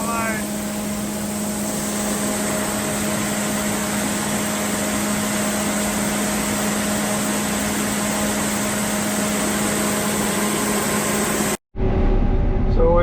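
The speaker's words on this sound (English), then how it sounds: "Filling the dryer for the first time on a beautiful night." A grain dryer runs steadily while being filled with corn on a calm night, a constant broadband mechanical roar with a low steady hum, continuous and fairly close, cutting off briefly near the end before resuming.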